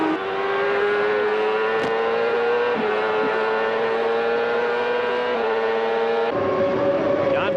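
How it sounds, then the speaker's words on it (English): CART race cars at speed at the 1997 Brazil race, a continuous loud high-pitched engine whine that shifts pitch as cars pass, with a commentator speaking over it. "that red car just behind Gilles DeFerrin is Alex Zanardi, who started 26th in this race."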